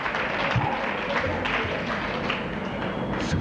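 An audience at a valedictory function in Chennai applauding, a moderate spread of clapping with scattered taps, fairly faint and continuous.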